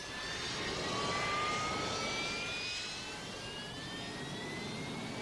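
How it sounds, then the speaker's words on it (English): An aircraft auxiliary power unit runs aboard the carrier HMS Ark Royal in the Adriatic, a steady jet-like roar with a rising turbine whine holding at a moderate distance. "It's going to commence an APU run."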